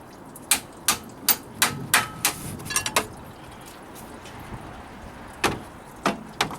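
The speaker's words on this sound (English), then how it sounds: "I take a wrench, a hammer, and I smack the end of the wrench as I'm pushing in that direction." Hammer smacking the end of a wrench to loosen a reverse-threaded part on a 2008 Ford Explorer 4.0 engine, a run of sharp metallic strikes in quick succession, a pause, then a few more hits.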